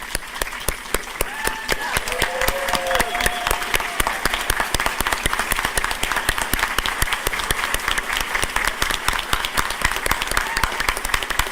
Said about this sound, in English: I would like to take a moment to ask you all to stand for a round of applause.